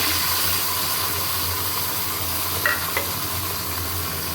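Whole green chillies and mustard paste frying in a pan, a dense continuous sizzle and hiss with a couple of faint clinks near the end, steady and close with no voices.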